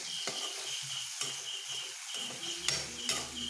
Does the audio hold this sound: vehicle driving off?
no